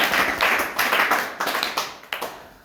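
An audience claps together at a devotional children's gathering, a loose round of applause with distinct bursts that swell and fade, moderately loud and close.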